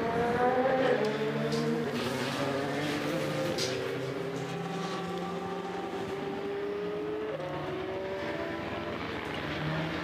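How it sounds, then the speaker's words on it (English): A Le Mans endurance race car pulls back onto the track, its engine note climbing through several gear changes with rising and falling harmonics, moderately loud and gradually fading with distance. "10th position as the number 8 car gets back underway."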